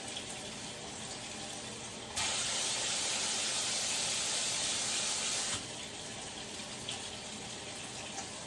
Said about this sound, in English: all I'm doing is just rinsing this and draining it to get that bitter coating off of the quinoa